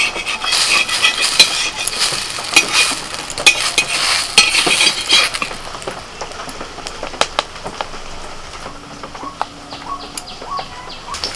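Patishapta crepes frying in ghee in a pan, with a bright sizzle and scraping stirs up front that settle into quieter sporadic clinks and crackles, close and without talk.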